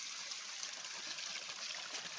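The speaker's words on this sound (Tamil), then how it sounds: "இங்கே பாருங்க, தண்ணி 24 hours வந்துக்கிட்டு இருக்கும்" Spring water flowing out of a pipe from inside rock at a forest house, a soft steady trickle and hiss that continues evenly throughout, faint and with no voices.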